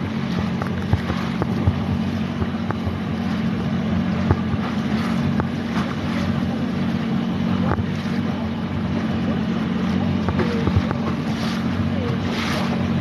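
Motorboat engines run steadily at sea during a winter outing, a constant low engine drone mixed with wind and water noise throughout, with no talk.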